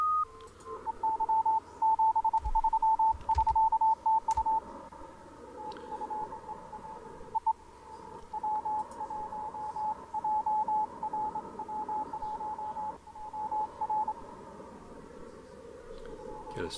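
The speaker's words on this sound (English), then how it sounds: "This fellow's Morse code is not very good. Sounds like he's doing it manually." Hand-keyed Morse code CW signal on a radio receiver in CW mode, a steady tone broken into uneven dots and dashes over faint static hiss, with someone talking over parts of it.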